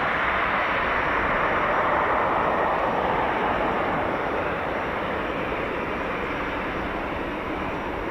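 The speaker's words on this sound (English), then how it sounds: "Typhoon starting up." Eurofighter Typhoon FGR4 jet engine at RAF Lossiemouth, a loud, steady, broad roaring rush heard from outside that holds without break throughout, with no talk.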